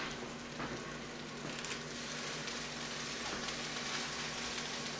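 Balsamic vinegar hitting a hot pan gives a steady, close sizzle and crackle that runs unbroken the whole time, with no voices over it.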